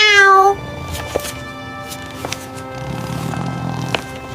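A person imitating a cat meows loudly once at the start, followed by quieter clicks, taps and faint room noises.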